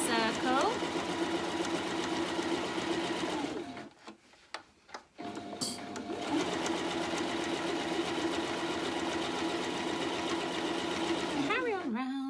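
A sewing machine stitching around a fabric circle for a small pouch, running steadily with a fast even whir, briefly stopping midway, then running again; someone talks over it.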